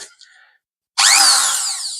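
Battery-powered electric drill given a short test run at close range, a loud steady whir starting abruptly after about a second of near quiet and holding to the end.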